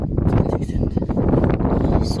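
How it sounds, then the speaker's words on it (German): Gusty wind buffets an outdoor microphone during a night-time metal-detecting outing in Austria, a loud, continuous rumbling roar over a short stretch. "So windig."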